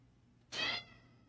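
A domestic cat gives a single short meow, faint and somewhat distant, against a quiet background.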